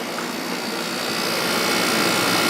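A Kenmore 8000 BTU window air conditioner with no thermostat running steadily, producing a loud, broad, even rushing hum of fan and compressor, close by with no voices.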